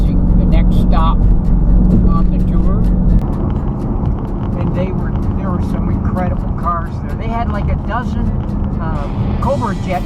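A line of Shelby cars, including 1,000-horsepower Cobra Jets, drives along the road near Detroit during the Woodward Dream Cruise, a steady loud engine drone heard from inside a car at the back of the pack, with people talking over it.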